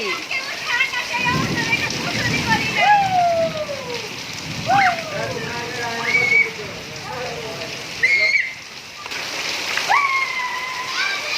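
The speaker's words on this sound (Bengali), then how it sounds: "এত সুন্দর বৃষ্টি" Rain pours steadily outdoors, a continuous splashing wash under lively voices of children and adults chattering and calling throughout.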